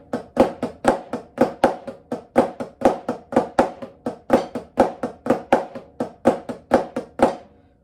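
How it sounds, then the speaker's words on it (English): Snare drum rudiment pattern, a flamacue leading into flam taps: a steady stream of sharp doubled strokes with grace-note flams, about three hits per second, close and crisp, played alone. "playing a Flamacue into flam taps."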